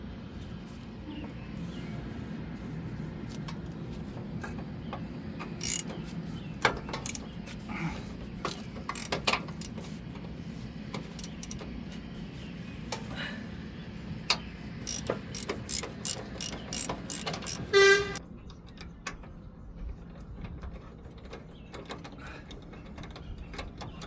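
Ratchet wrench loosening a bracket nut on a 2005-2012 Nissan Pathfinder 4WD during front upper control arm work, close rapid clicking bursts in irregular runs over a low background hum, ending with a metallic clink.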